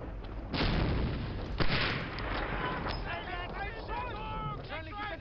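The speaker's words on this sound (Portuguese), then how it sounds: "Só granadas a chover aqui." Grenade blasts in the World War II shooter Medal of Honor Allied Assault: two heavy booming explosions close together, followed by crackling debris and whistling, warbling effects, loud and near.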